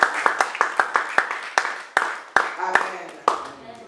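Sharp, rhythmic hand claps from a church congregation, roughly a dozen evenly spaced beats ringing out close and loud, with voices joining toward the end.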